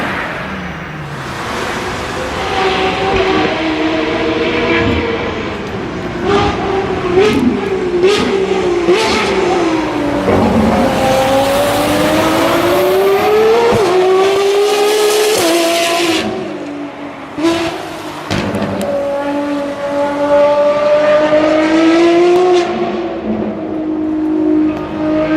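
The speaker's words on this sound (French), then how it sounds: "il y a juste une qui est déjà sympa, une GT3 488 qui tourne" A Ferrari 488 GT3 race car laps a track, its engine rising and falling through repeated loud revving passes and gear changes over about twenty-five seconds, near and dominant.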